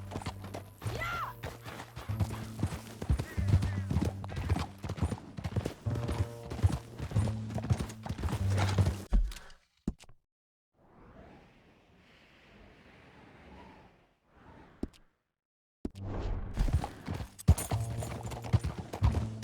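Horse hooves galloping in the Red Dead Redemption 2 video game, a fast, close, rhythmic clip-clop with wind rushing past, dropping to a quieter windy pause midway before the pounding gallop resumes.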